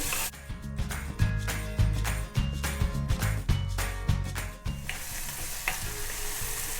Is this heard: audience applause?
no